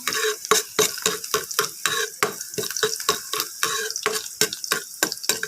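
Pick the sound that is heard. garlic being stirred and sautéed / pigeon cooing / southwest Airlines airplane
garlic being stirred and sautéed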